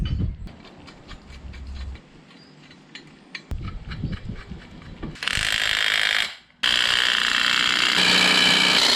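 A pneumatic rattle gun hammers in short bursts, tightening nuts on the axle springs of an FJ40, then spins up with a loud, sustained whine, close and dominant, with no talking.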